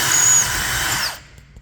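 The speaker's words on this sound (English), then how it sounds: "So we'll just give her, drill away." A power drill bores holes for carriage bolts through an arcade cabinet control panel, a loud steady whine for about a second before cutting off, followed by quiet.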